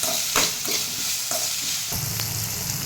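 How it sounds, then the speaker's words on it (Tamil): Chopped onions and garlic sauté with a little rock salt in a pan for dried-fish kuzhambu, a loud continuous sizzle broken by repeated scraping strokes of a spatula, close and without talk. "இப்போ வெங்காயம், பூண்டு எல்லாமே நல்லா கொஞ்சம் வதங்கிடுச்சு"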